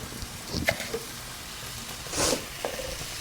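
Tomato and onion sauté in a pan with a soft, steady sizzle, broken by a few sharper scraping stirs and a louder sputtering burst near the end. No one speaks.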